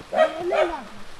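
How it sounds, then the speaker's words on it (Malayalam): A dog barks twice in quick succession, close and fairly loud, each bark with a slight whining edge, with faint background noise between. "പട്ടി തട്ടി ഉരയ്ക്കുന്ന ഒച്ച കേട്ടുകൊണ്ട് ജയ വരും"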